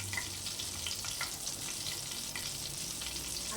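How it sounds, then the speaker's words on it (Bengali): A dried red chili fries in hot oil in a pan, producing a steady, close sizzle with crackling spits throughout and no voices over it. "এখানে আমি একটা শুকনো লঙ্কা দিয়ে দিলাম।"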